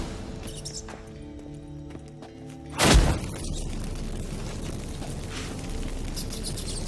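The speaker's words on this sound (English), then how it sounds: "Get ready for some magic fireworks. Once I activate the incense," A single loud burst of magical fireworks set off by lit incense in The Witcher 3: Wild Hunt, a sharp booming crack that fades into a steady rumbling hiss over continuous game background ambience.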